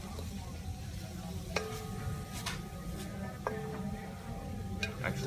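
Fresh cilantro cooking down in a pan for vegan chutney, giving a soft steady sizzle with occasional sharp ticks and taps of a utensil against the pan, close and fairly quiet.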